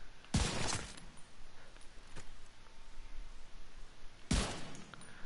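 Gunfire in the video game The Division 2: two sharp, loud shots about four seconds apart, each a single crack over a faint ambient background, with no talking.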